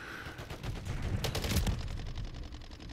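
Shotgun fire in a video game, a quick string of sharp blasts in rapid succession over a rumbling low background, moderately loud and unbroken.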